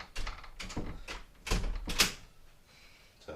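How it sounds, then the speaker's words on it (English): A bathroom door shuts several meters from the microphone, a series of muffled thuds and knocks with a brief rattle, moderately faint against a quiet room. "Shut the bathroom door."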